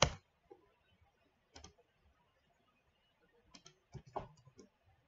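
Computer keyboard keys pressed while drafting in AutoCAD, a few sparse quiet clicks with one louder tap at the start and a small cluster of taps near the end, close in a quiet room.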